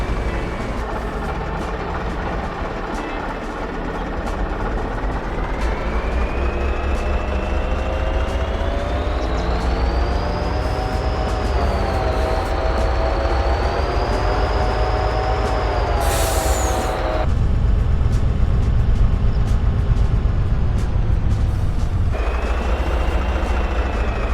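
An old Marmon truck in Farming Simulator 25 drives off with a loud, steady engine drone. Its whining pitch climbs and wavers as it gains speed, then drops after a brief, sharp burst near the end, with no voices.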